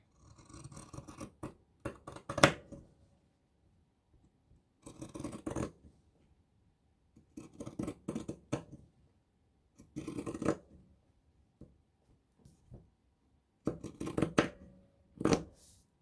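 Fabric being cut with scissors at close range for a slow-stitched pincushion, coming as a series of short crisp snipping bursts separated by pauses, with no talking.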